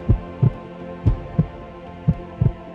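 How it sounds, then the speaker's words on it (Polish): Goku's heartbeat in the Dragon Ball Unreal video game: deep, muffled thumps in three double beats over a low hum, loud and steady. "Jego serce bije."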